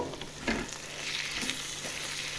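Ridge gourd and moong dal curry with chilli powder and coriander powder frying in a pan, giving a soft steady sizzle with a few scraping stirs and taps, with no voices.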